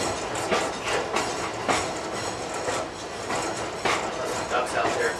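Train rolling along the Pittsfield and North Adams rail line beside the Hoosick River, a steady rumble with periodic clacking bursts from the wheels, heard from on board under continuous wind and track noise.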